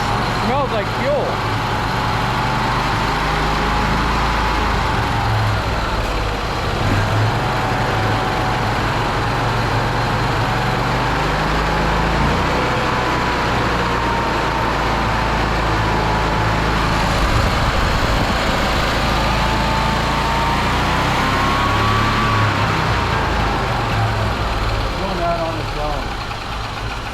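Propane engine running on gasoline, idling loud and steady with a governor hunting its speed up and down in slow swells; voices talk over it.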